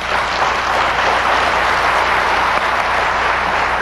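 Dense, steady applause from a large audience at a 1999 television awards ceremony, loud and continuous throughout with no letup.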